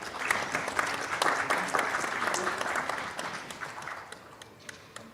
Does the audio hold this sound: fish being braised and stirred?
no